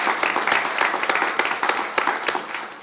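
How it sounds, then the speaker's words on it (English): Audience applause at a community presentation kicking off a city planning initiative, a steady crowd of hands clapping densely and evenly throughout, moderately loud with no one talking over it. "I think we deserve one more round of applause,"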